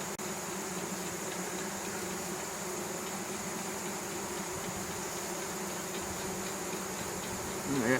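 Honey bees buzz around an open hive frame holding capped brood, larvae and a little honey, a dense, steady, close drone that fills the whole stretch without talk.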